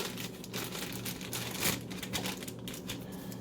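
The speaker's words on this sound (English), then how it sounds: "We're gonna put the plastic bag on here, and with the rubber band" A plastic bag crinkles as it is fitted over the neck of a homemade cider jug, giving close, irregular rustles and crackles with one sharper burst near the middle.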